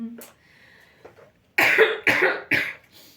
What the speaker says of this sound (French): Je suis désolée de tousser, parce que je sais que ça agace les gens